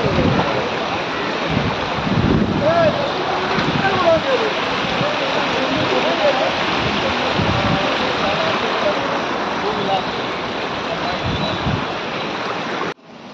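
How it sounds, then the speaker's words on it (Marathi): After heavy rain, floodwater rushes fast along a road in Bhiwandi's Arihant compound. It makes a steady, loud watery roar, and faint voices come through briefly. "रोडवरती पाणी असून सुद्धा एवढा स्पीडने पाणी."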